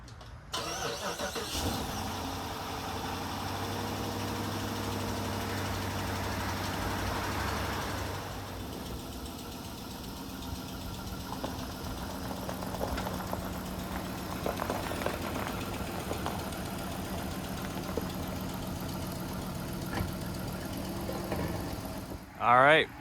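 A Dodge Charger R/T Pursuit with its factory exhaust starts up and settles into a steady, loud idle, its engine rumbling continuously for the whole stretch and ending in a brief sharp burst.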